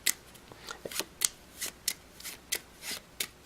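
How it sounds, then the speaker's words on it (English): A deck of playing cards shuffled by hand during a math card trick: a series of about nine crisp riffling bursts in an uneven rhythm, close and fairly quiet, with no talking. "I'm going to give these cards a little bit of a shuffle."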